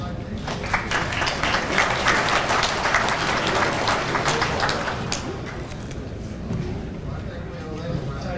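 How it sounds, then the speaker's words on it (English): A room of American Legion members applauds a pledge, a sustained round of clapping that starts strong, tapers gradually and picks up again near the end, with a voice talking over it. "So I think we owe them a round of applause"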